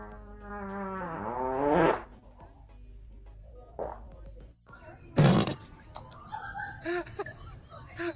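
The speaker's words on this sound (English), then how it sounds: "Ain't no way you just fucking farting like that" A person farts inside a truck during a prank, producing a long, loud, rising, squeaky blast at the start and a short burst later, with voices and laughter around it.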